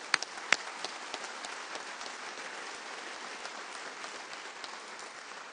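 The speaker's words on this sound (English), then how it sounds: "Round of applause for our Air Force." Applause at a Veterans Day ceremony honoring the Air Force, a faint, fairly distant, steady patter of clapping from the audience with a couple of sharper claps near the start.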